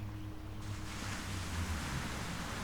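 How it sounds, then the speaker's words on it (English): Ocean waves surge in a steady, continuous wash at close range, with a broad rushing roar and no voices. "5 minutes to listen to the sound of the ocean"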